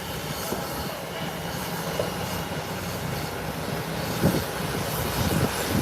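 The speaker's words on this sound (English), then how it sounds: "Here is JetBlue rolling in." JetBlue airliner taxiing at Howard Hamilton International Airport, a steady broadband engine roar and rumble with no clear breaks, fairly loud and continuous.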